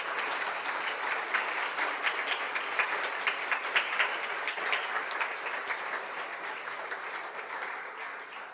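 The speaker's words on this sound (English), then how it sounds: "So please turn around and give her a big round of applause." Audience at a physical therapy white coat ceremony gives a sustained round of applause, steady dense clapping from a hall of people that holds for several seconds, moderately distant and fairly quiet.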